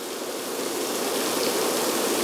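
A stage rain effect in a theatre pours water in a steady, dense rushing hiss like a stream or heavy shower, close and unbroken, swelling slightly toward the end with nobody talking.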